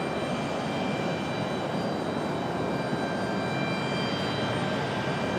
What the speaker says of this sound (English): So United from Denver, the 737.